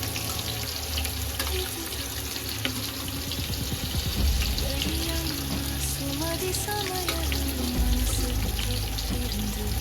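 Whole cinnamon, cloves and cardamom fry in hot oil for mutton biryani, a steady loud sizzle with running-water hiss throughout, with no voices.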